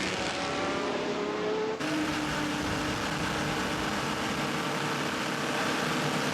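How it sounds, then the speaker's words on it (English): Race cars at the 2007 24 Hours of Le Mans pulling onto a busy pit road, engines roaring continuously and loudly as several cars pass in quick succession. "It's a busy pit road, a flurry of cars coming in."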